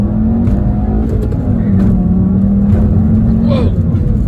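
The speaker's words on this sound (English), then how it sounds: "All right, get her straight here and give her some gas." A 2015 Volkswagen Jetta GLI with a 2-liter turbo engine and six-speed manual accelerates hard, its steady engine drone rising loud and continuous throughout, with a voice briefly heard over it.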